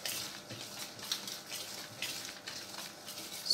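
A spoon works through a thick semolina and mango pulp cake batter in a bowl, giving soft, repeated wet scraping strokes that are faint and close, with no talking.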